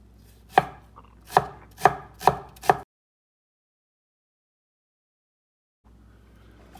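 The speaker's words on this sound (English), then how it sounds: "The next step is to chop your garlic. I like to mince it pretty fine here." Five rhythmic knife chops mincing garlic cloves finely on a cutting board, close and crisp, followed by about three seconds of silence and then faint room tone.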